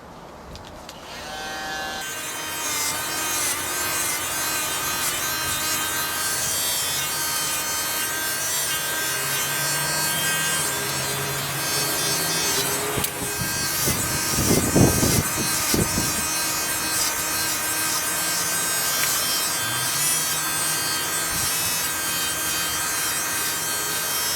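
Electric hair clipper fading a haircut at home, a loud continuous buzzing hum with steady tonal whine, briefly interrupted by rubbing contact sounds near the middle.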